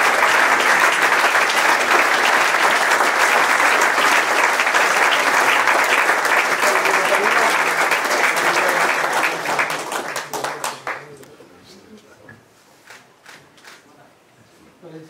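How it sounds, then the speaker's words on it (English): Loud, dense audience applause fills a football club's end-of-season awards night, sustained for about ten seconds before thinning out into scattered claps and quieter room noise. "Give it up for Jordan Temple."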